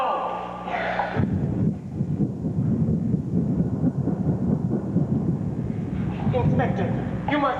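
Thunderstorm thunder effect played during a 1990 high school fall stage play, a loud low rumbling roll that fills the whole clip, with people talking over it.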